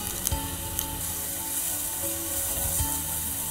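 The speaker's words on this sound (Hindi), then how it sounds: "तब तक भूनना है जब तक ये घी ना छोड़ दे जी।" Pumpkin roasting in ghee in a pan gives a soft, steady sizzle throughout, with a few faint clinks and stirring scrapes near the start and end, and no talking.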